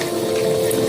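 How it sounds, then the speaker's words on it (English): Pasta cooking water poured out of a pot to drain, a loud, close rushing gush of liquid for a brief moment. "I'm gonna pour this out and make it drain off."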